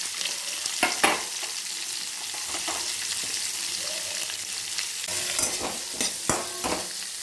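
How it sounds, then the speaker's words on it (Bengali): Three large chopped onions tipped into hot white oil with whole cumin sizzle loudly and steadily for a chicken pulao, with sharp clicks and scrapes of stirring cutting through the frying hiss. "আর এখানে পেঁয়াজ কুচিয়ে রেখেছি, 3টে বড় সাইজের পেঁয়াজ। পেঁয়াজটা আমি এখানে দিয়ে দেবো।"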